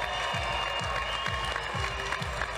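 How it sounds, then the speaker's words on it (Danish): A packed boxing arena crowd applauds the fighters in the ring after the evening's final bout, a women's featherweight title fight at a Danish fight night, giving steady, dense clapping with crowd noise throughout. "vil jeg høfligt lige anmode om et stort bifald op i ringen"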